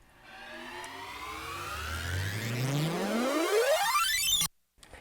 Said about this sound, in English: it's just the Imperial TIE explosion, and what I did was I reversed it so it sounds like this